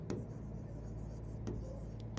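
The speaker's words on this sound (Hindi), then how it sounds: "नेक्स्ट पेज पे लिखती हूँ आप लोगों के लिए" A pen writes on the next page of a notebook with soft, continuous scratching over a steady low hum, plus a couple of faint taps, with no talk.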